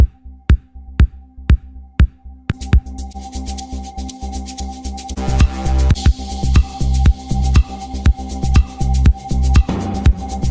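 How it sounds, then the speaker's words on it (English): White noise runs through an electronic dance track heard during a record review, a loud hiss building under steady kick-drum thumps, thickening midway and continuing with the beat throughout. "The white noise. That's strike one in the track."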